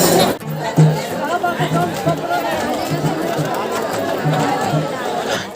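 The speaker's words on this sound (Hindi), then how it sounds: "ये सारी भीड़ जा रही है राम मंदिर की ओर" Dense crowd of pilgrims moving on foot along a road toward Ram Mandir in Ayodhya, a steady close murmur of chatter and babble with shuffling movement throughout.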